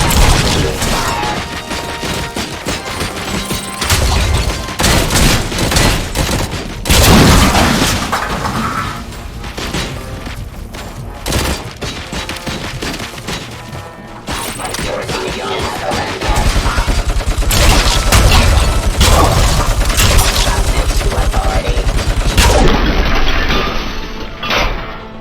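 Rapid gunfire from the video game RoboCop: Rogue City rattles in dense, loud bursts with crashes and booms throughout the firefight, and brief quieter gaps break up the shooting.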